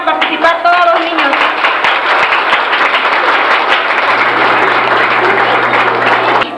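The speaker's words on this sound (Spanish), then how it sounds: "brindémosle un fuerte aplauso" Loud, sustained applause from a community audience at a village cultural festival in Ranchos de Arriba, Nayarit, for the children about to perform; dense crowd clapping runs unbroken for over six seconds, with a brief voice at the start.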